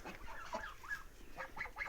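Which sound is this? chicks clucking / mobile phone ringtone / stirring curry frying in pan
chicks clucking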